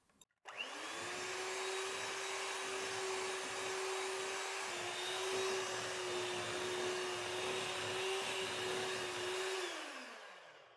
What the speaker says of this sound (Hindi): इतना बीट करेंगे कि बटर और जो चीनी है वो अच्छे से मिक्स हो जाए